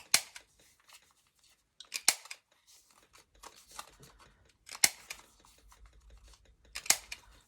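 Scissors trimming the edges of paper at a desk, a few crisp separate snips spaced a couple of seconds apart, close and clear with quiet rustling between.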